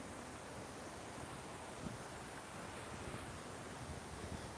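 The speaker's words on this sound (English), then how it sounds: "It's a windy one today, isn't it?" Steady, faint wind noise rushes along a riverside path with broadband buffeting and no voices.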